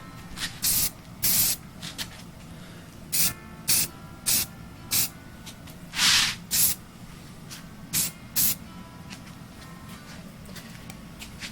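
Short bursts of spray paint hiss as a coat goes onto a 1/64 scale custom die-cast car, roughly a dozen quick puffs at irregular intervals, close and fairly loud over a quiet room, with no one talking.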